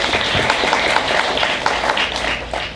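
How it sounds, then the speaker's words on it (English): A graduating matric class of 2019 claps for itself at a school banquet, a dense steady patter of hands that stays loud and fairly close for the whole stretch. "Please give yourself a round of applause."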